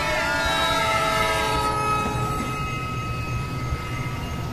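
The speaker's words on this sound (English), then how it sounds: "The train went right over him." Train sound effect for a radio drama, a steady rumbling roll of railway cars with sustained horn-like tones, loud and continuous throughout with no talk over it.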